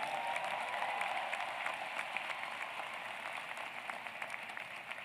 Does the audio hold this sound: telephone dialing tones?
no